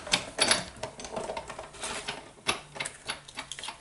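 A die-cutting machine with a magnetic plate cutting paper, giving close, irregular clattering clicks and taps as the plates bounce and roll through, with brief loud knocks scattered over a few seconds.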